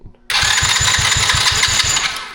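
A small four-wheeler engine cranks and catches, then runs with a rapid, steady chugging pulse at close range, loud and alone.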